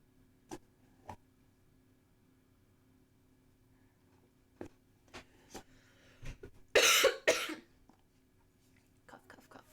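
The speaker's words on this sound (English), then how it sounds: "Cough, cough, cough." A person coughs several times, with scattered short coughs and throat sounds early on and a louder burst of two or three harsh coughs near the end, close to the microphone in an otherwise quiet room.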